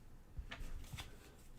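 A deck of board game cards gets shuffled in a quick, close riffling flurry of papery flutters lasting about a second, alone without talk.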